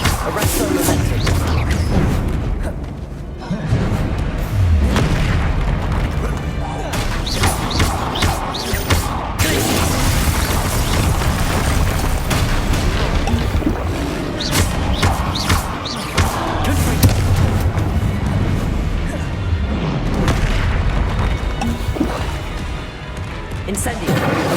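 Spell explosions from Hogwarts Legacy on PS5, repeated blasts and thuds rolling through a busy fight mix for the whole stretch, with voices shouting throughout.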